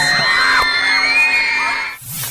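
Riders screaming and yelling together on an extreme amusement park ride, a loud sustained crowd of high-pitched shrieks that carries for about two seconds before cutting off abruptly.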